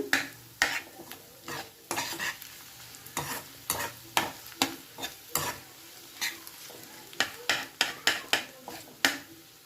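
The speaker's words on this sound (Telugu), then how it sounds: "టూ మినిట్స్ బాగా ఎగ్ బాయిల్ అయ్యేలాగా వేగనిద్దాము" Scrambled egg frying in a pan, stirred and scraped with a spatula in a steady run of sharp taps and scrapes over a continuous low sizzle, close up and with hardly any talk.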